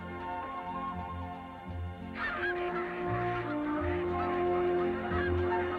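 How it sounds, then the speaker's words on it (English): A flock of geese taking off honks continuously, many overlapping calls forming a steady clamor, with some louder nearby honks standing out. "Great flocks of geese take off for nesting grounds further north."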